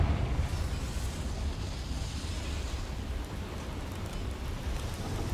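A Confringo fire spell bursts in a mine in Hogwarts Legacy, giving a dense, roaring rumble that holds steady and loud for several seconds with no voices over it.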